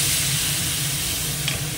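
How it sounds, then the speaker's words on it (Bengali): Thin sea fish sizzles loudly in a pan as a little water is poured in, giving a continuous broad hiss with a low bubbling rumble and no talk. "এবার মাছটাও ঢেলে দিয়ে দিই, একটু সামান্য জল দিয়ে দেবো।"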